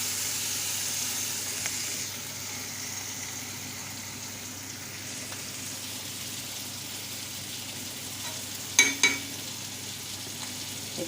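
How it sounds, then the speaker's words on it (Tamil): Onions and tomatoes sizzle steadily in a hot pan for a spinach and moong dal dish, a continuous close frying hiss with a brief clatter of stirring near the end, no voices. "இப்போ எல்லாம் வெங்காயம் தக்காளியெலாம் வதங்கிடுச்சு."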